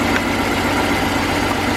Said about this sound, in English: we definitely got a misfire here